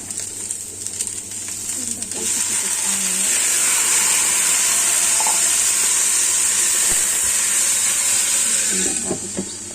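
Mushrooms and smoked beef frying in a pan after a splash of water goes in: a steady sizzle swells loudly after about two seconds and holds as a dense hiss, with faint stirring scrapes at the start and end.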